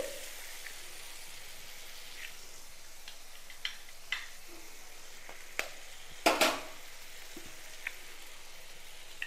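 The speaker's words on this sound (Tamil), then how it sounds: "லேசாக வதக்கிட்டு இதில் நம்ம முட்டையை உடச்சி ஊற்றிடலாம்." Beaten eggs poured over sliced ridge gourd frying in a pan, giving a soft, steady sizzle with occasional sharp clicks and taps from a utensil.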